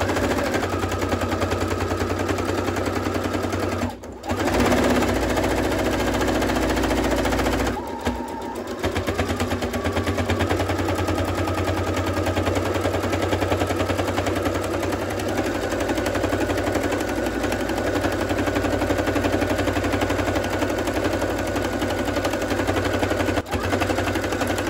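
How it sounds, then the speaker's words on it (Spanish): A sewing machine fitted with a blind hem presser foot runs steadily, sewing a blind hem in fabric with a fast continuous mechanical rattle, close and loud, pausing briefly twice before carrying on to the end. "Ahora bajo el prensatela, los hilos hacia atrás y comenzamos a coser."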